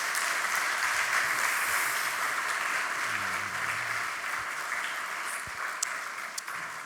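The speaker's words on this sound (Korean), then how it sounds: "한번 큰 박수 해주시기 바라고요." A church congregation claps together during a Sunday worship service, a steady wash of applause held at a constant level for several seconds and tapering slightly near the end.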